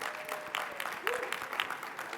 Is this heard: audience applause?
yes